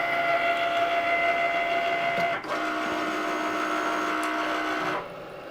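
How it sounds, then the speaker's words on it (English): Cricut cutting machine slicing vinyl, a steady mechanical whir with tonal motor whine that shifts pitch as the carriage moves, stopping abruptly near the end. "press the flashing Cricut button, and it will start cutting."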